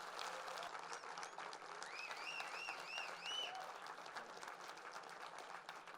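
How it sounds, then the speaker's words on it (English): A big round of applause for an Oscar-winning cinematographer at a masterclass event, steady crowd clapping at moderate distance with faint whistle-like tones rising and falling over it partway through. "please join me with a big round of applause"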